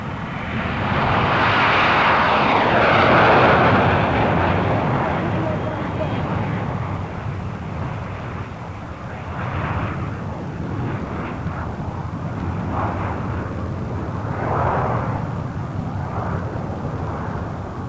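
Seven RAF Gnat jets of a display team flying low formation passes under cloud, a loud broad jet roar swelling and then fading to a steady distant rumble, with someone narrating over it.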